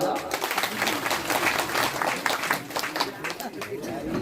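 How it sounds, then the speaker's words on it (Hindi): A crowd at an Arya Samaj religious discourse claps steadily throughout, with voices talking over the applause. "अब तो ताली बजा।"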